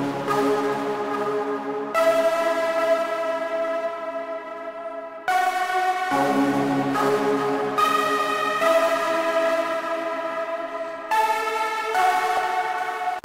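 Key Decade, a synth key sound from a sample kit played in FL Studio, rings out in sustained harmonic chords that shift every couple of seconds, steady and close with no voices.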